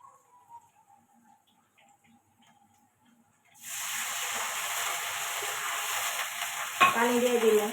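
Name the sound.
onions frying in oil in a wok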